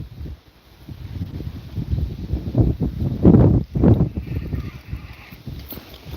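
Steady wind gusts buffeting the microphone outdoors on a lake, rising and falling in low rumbling bursts, with faint water sounds beneath.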